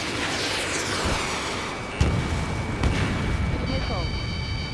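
Missile launches in the flight combat game Ace Combat 7, a steady dense roar of jet and rocket noise with sharp bursts near 2 and 3 seconds and lock-on tones toward the end, voices of game radio chatter mixed in.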